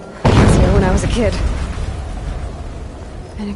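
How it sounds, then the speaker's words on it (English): A loud explosion goes off in the video game Horizon Zero Dawn Remastered with a sudden heavy boom, then a long rumbling decay, while a voice speaks over the blast early on. "An explosion."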